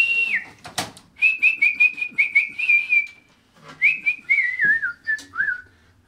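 Loud, clear whistling in two long bursts: a steady warbling tone, a pause, then a falling, wavering whistle, with a few faint clunks in the background.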